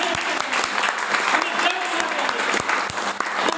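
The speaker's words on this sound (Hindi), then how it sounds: "अपने लिए तालियां बजाइए" An audience at a direct selling seminar in a hall claps together, steady applause with some louder individual claps standing out, while a voice carries on over it.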